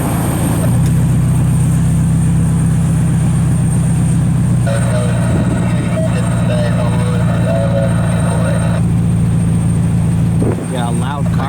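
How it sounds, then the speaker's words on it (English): A loud car idles and passes nearby on an airport cargo road in snowy weather, a steady low rumble with a broad hum filling most of the stretch, then fading near the end. "Got a loud car nearby."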